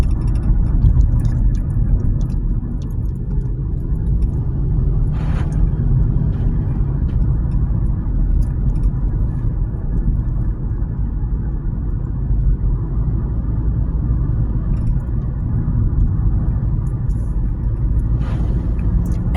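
A small car drives along with a steady, loud engine rumble and road roar that holds constant throughout, with no talking.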